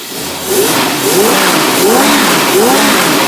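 A Predator PXI small engine revving up and settling back in repeated rising and falling bursts, taking throttle smoothly; close, steady and loud, with no talk.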